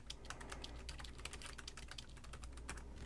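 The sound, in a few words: typing on Samsers KM08 folding Bluetooth keyboard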